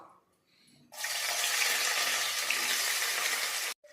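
Three medium onions, chopped into small pieces, hit hot oil with a sudden loud sizzle that holds steady for about three seconds before cutting off abruptly, close and clear with no talking.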